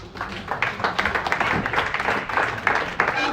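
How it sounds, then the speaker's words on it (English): An audience at a workplace safety talk claps for a speaker, a close, uneven patter of many hands that carries on for a few seconds without talk. "Please, let's clap for him."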